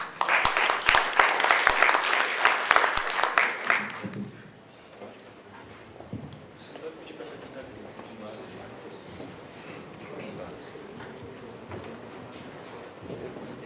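Audience applause at the opening of a university game showcase, a burst of clapping that lasts about four seconds and then stops, followed by a quiet room with someone speaking.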